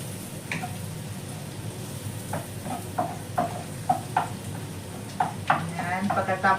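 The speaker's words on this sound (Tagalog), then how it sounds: "Sa butter lang siya guys, igigisa." Garlic and beef liver sautéing in butter in a pan, a constant soft sizzle with repeated scraping and clinking of a utensil stirring the pan.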